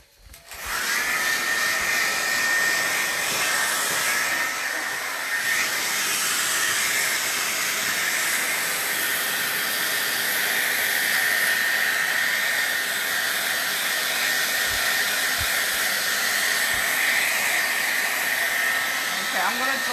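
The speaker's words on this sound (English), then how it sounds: "Okay, I'm gonna dry with a hair dryer." A hair dryer blows on wet paint in an art class, a loud, close, steady whooshing drone with a faint high whine that runs unbroken for the whole stretch, without any talking.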